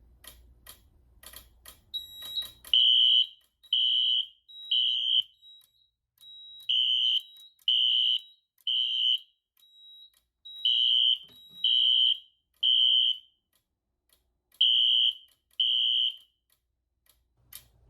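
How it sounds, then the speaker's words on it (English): Gamewell Identiflex 610 fire alarm devices sound after a pull station is pulled: a few ticks, then a loud, repeating temporal pattern of three piercing beeps with pauses and faint strobe clicks underneath. "Now let's hit this pole station."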